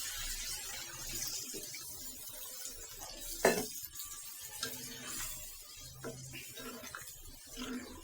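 Chicken with turmeric being sautéed in a pan, heard as faint scraping and clinking of a utensil against metal, with one louder clank midway and a low sizzle underneath.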